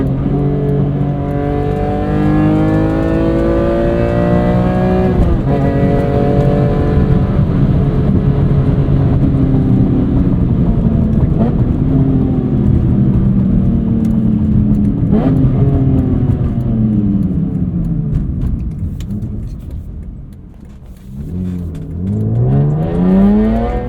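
A 2005 BMW E46 M3 Competition with a six-speed SMG gearbox, its engine loud and close on a track, revving up through rising sweeps, dropping briefly with a downshift, then climbing again.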